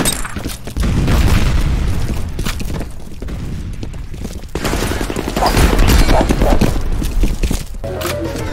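A grenade explodes in the video game FEAR Combat amid loud, chaotic gunfire, with booming blasts and dense bursts of shots continuing throughout and voices mixed in.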